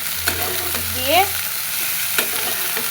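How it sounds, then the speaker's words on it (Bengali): Bottle gourd sautéing in a pan with salt and turmeric, a steady soft sizzle broken by a few scraping stirs of a spatula, close and moderately loud, with no talking. "লাউটা কষায় নিব।"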